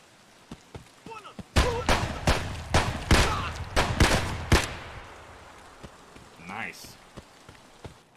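Rapid semi-automatic rifle shots in Escape from Tarkov, a burst of about a dozen sharp, loud cracks in quick succession, followed by fainter scattered shots and a voice talking briefly afterward.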